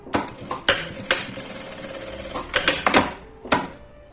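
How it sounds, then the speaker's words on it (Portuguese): A sewing machine topstitches fabric with its lining: a steady mechanical whirr of stitching mid-clip, set between sharp clunks and handling knocks, fairly close and with no talk. "E passo uma costura com um pé de máquina"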